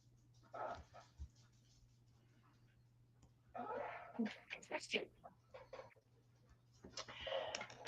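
A dog pants quietly indoors in breathy bursts, close to the microphone, with a person talking in between the bursts.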